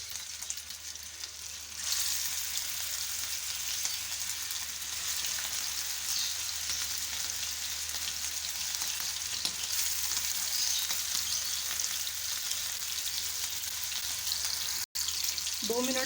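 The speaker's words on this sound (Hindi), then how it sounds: "तो चलिए अब हम इसमें कबाब डालेंगे।" Kababs sizzle in hot oil in a frying pan, a steady loud crackling hiss that starts abruptly after a quieter moment and holds on without pause, with no voices over it.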